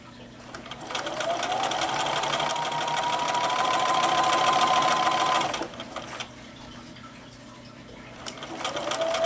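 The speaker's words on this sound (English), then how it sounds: "And then we're going to continue to sew." A sewing machine stitches a fabric potholder in a steady whirring run with a rising then level motor tone, pauses briefly, then starts up again, close and clear.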